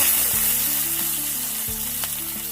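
Tomatoes hit a hot frying pan and sizzle loudly while a utensil stirs and scrapes through them, the steady frying hiss broken by a few clanks of metal against the pan.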